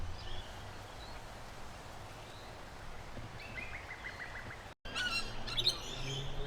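A Murray magpie, or magpie-lark, calls at a suburban dam in winter, giving a short series of clear repeated notes over a soft, steady outdoor background, followed by a few brief chirps.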